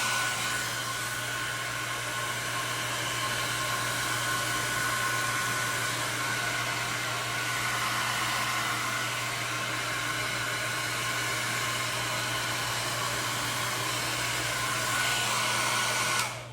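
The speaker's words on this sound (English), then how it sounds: "so now we get the blow dryer and just put it on warm and high or low" A hair dryer set on low and hot blows steadily and loudly for the whole stretch, a constant whooshing roar with a low motor hum beneath, cutting off right at the end.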